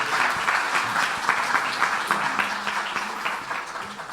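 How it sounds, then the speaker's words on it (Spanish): An audience claps for a speaker after a presentation at a circular economy session, steady moderately loud applause that gradually tapers off toward the end. "Un aplauso, por favor."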